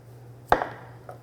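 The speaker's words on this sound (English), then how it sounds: "I'm going to cut off each end" A knife cuts off one end of a cantaloupe on a cutting board: a single sharp chop with a crunching slice, then a faint second knock a moment later, close by, over a low steady hum.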